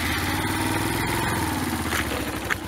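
A Yamaha SR125 motorcycle, its once oil-starved engine brought back to life, runs steadily while being ridden, a close, continuous single-cylinder drone with a slight rise in pitch partway through and no talking.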